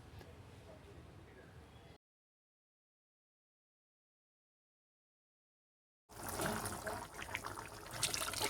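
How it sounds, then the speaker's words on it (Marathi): Water trickles and splashes as a glass of water is poured into a cooking pot, with a stretch of silence in between and faint talk around it. "आता मी इथे एक पेला पाणी घालते"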